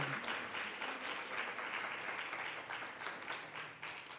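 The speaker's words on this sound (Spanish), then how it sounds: "Dele un aplauso al Señor." A church congregation applauds in a sustained, dense wash of many hands clapping, steady and fairly loud throughout with slight swells, no voices standing out.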